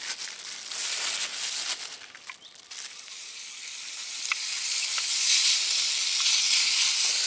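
Bacon and hot chili sizzle in a brand new frying pan on a gasification wood stove outdoors, a loud, steady hiss that swells and eases with occasional small pops.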